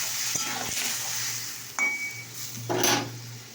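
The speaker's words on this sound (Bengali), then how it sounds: "তো দেখো আমি জল দিয়েছি, ওই মশলাটা একটু কষা হবে।" Spice masala with cumin and chili powder fries in a pan after water is added, a moderate bubbling sizzle punctuated by metallic spoon scrapes and clinks as it is stirred.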